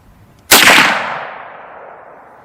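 A single loud shot from a .45-70 lever-action rifle fired close by, a sharp blast followed by a long fading echo rolling out over roughly two seconds.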